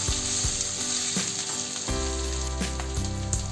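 Lemon rice being stir-fried in a pan with the gas off: steady close sizzling with repeated scraping and tossing strokes of a spoon against the metal, no voices.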